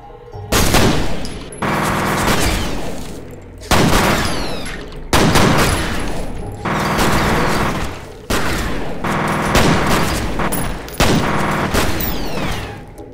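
Loud, close gunfire from the first-person shooter F.E.A.R., sustained bursts of automatic fire broken by brief pauses, each burst ringing out with heavy impact.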